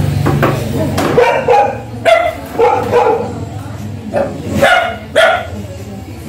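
A mother dog barks repeatedly up close in loud, sharp bursts while people talk over and between the barks.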